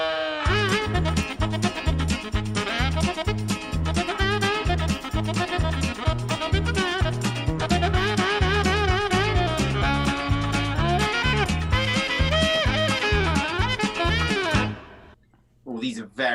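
A comic TV theme tune, played as a quiz question, runs as a brisk, bouncy, comic instrumental with a steady oom-pah bass pulse, loud and continuous for about fifteen seconds before cutting off.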